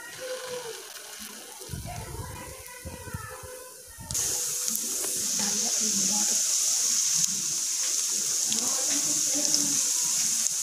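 Masoor dal fritters (bora) fry in hot oil, several spaced apart in the pan. A bright, steady sizzle starts suddenly partway through and keeps going, with softer kitchen noises before it.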